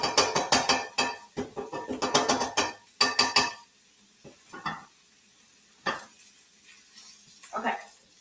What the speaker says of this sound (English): while these veggies are cooking a little bit